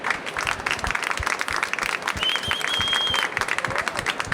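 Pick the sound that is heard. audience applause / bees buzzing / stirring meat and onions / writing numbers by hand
audience applause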